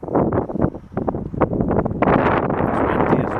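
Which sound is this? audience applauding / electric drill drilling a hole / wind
wind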